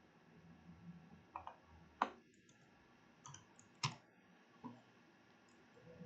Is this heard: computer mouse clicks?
yes